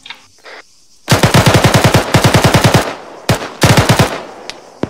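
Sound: machine gun fire in the video game Arma

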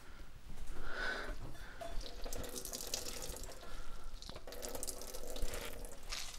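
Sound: cucumber squeezed by hand over the sink, liquid dripping

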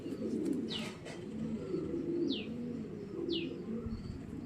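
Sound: racing pigeons cooing

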